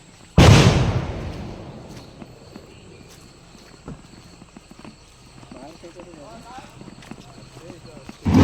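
One sharp, loud firecracker bang bursts out near the start and fades, followed by a noisy outdoor crowd murmuring and shuffling in the background during a Ganpati arrival in Konkan.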